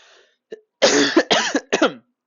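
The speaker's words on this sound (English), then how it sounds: "Sorry for coughing." A person coughs up close in a quiet room: a small throat sound, then a burst of three or four harsh, loud coughs in quick succession, ending in silence.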